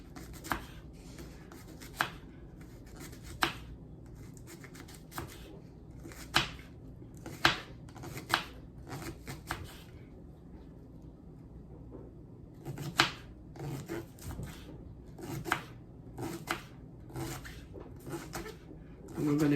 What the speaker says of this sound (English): so now we want to cut up our green onion. And what I do, I cut the tops off, and I just go down and slice them real thin